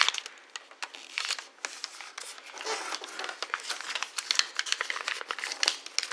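Paper being creased and folded by hand while shaping an origami butterfly: a steady run of close, crisp crinkles and sharp snaps, with short pauses between folds and no talk.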